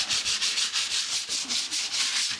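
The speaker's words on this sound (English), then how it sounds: "Just doing a quick sanding." Sanding a veneer coffee table by hand, with quick back-and-forth rubbing strokes in an even rhythm, close and continuous, no talking.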